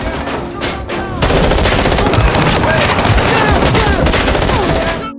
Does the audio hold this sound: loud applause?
no